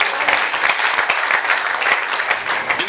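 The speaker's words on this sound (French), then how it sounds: "Nous applaudissons pour la gloire de Dieu." Loud, close applause from a church congregation at an ordination service, many hands clapping vigorously in a dense, sustained burst that stays level throughout.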